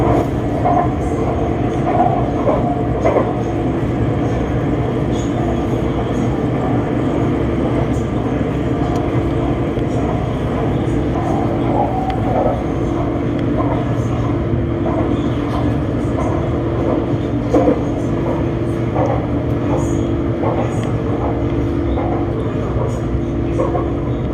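Bangkok's BTS Skytrain electric train runs between stations on the line from Ratchayothin to Udom Suk, heard from inside the car. A steady, continuous rumble of wheels and motors carries on throughout, with occasional light clicks and a voice at times.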